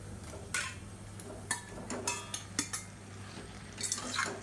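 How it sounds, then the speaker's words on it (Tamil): Half a kilo of boneless chicken goes into a pan of sautéed tomatoes for marriage-style chicken sukka, giving a few scattered clatters and sizzling bursts of pan and utensil noise over a steady low hum. "இப்போ அரை கிலோ போன்லெஸ் சிக்கனை சேர்த்துக்கலாம்"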